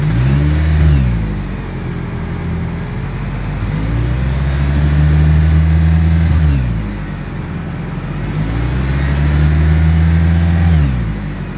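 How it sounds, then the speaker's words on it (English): A 2024 Toyota Camry Hybrid's engine and exhaust rev up in three loud, sustained swells, each rising and falling in pitch, heard close with no talk. "As always, here is that exhaust clip."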